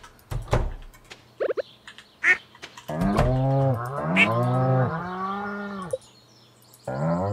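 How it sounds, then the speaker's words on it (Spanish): Cattle mooing on a farm in the video game Stardew Valley, a few short calls and clicks followed by a long, loud, harmonic moo, then quiet and a brief final call. "nos vamos a las vacas ahora."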